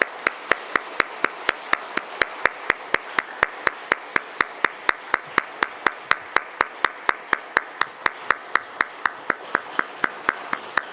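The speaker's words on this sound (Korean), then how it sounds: "우리 다시 한번 박수하겠습니다." A church congregation at a family dawn prayer service claps in steady unison, sharp evenly spaced claps keeping a brisk rhythm throughout, loud and close.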